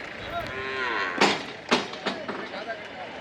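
Cattle at a rural livestock market in Kundarapalli, Tamil Nadu, low bellowing moos rising over a murmuring crowd of people talking, with a couple of louder calls standing out near the middle.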